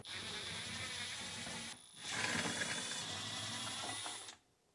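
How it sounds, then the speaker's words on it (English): A 1/4-inch nut driver backs out refrigerator mounting screws inside a Frigidaire fridge, giving a steady high whirring buzz with a short pause before a second, louder run, close up and continuous. "use a 1/4-inch nut driver to remove the 5 mounting screws"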